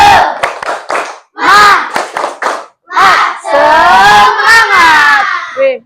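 A group claps a quick rhythmic pattern together, then many voices shout a loud, drawn-out chant in unison, close and energetic.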